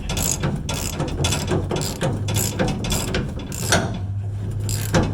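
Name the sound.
unthreading a bolt during a 1979 Ford F100 rear spring swap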